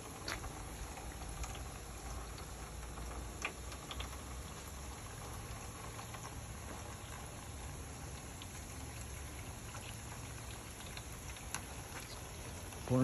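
Water from a hose pouring off a roof into a drain, a quiet continuous patter and trickle with scattered drips, fairly faint and steady throughout.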